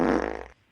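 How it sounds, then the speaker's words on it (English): A single loud, close fart lasting about half a second, buzzing with a fluttering rattle before cutting off abruptly into near silence. "Dude, enough of the farts."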